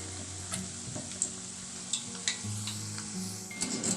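Cassava and urad dal vadas frying in hot oil, a continuous crackling sizzle punctuated by several light ladle clinks and stirring taps against the pan, no voices.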